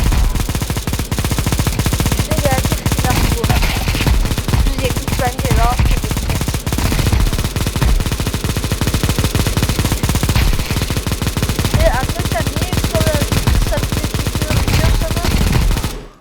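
Rapid automatic gunfire from a weapon in the video game Counter-Strike 2 rattles continuously and loudly, a dense stream of shots with occasional faint voices beneath.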